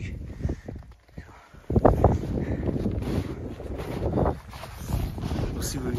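Gusty wind buffets the microphone on a frozen lake during ice fishing, rumbling loudly and steadily after a brief lull, with faint scattered clatter beneath it.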